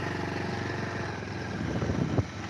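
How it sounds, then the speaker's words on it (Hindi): Trucks and tractors driving at an illegal sand mining site, a steady rumbling engine drone throughout with a brief louder knock near the end, no voices. "गाड़ियों की आवाज़ आ रही है, भागने की, ट्रैक्टरों की।"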